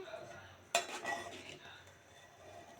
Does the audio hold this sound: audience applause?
no